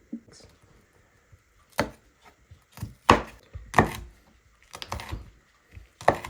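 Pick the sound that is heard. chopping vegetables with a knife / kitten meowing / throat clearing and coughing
chopping vegetables with a knife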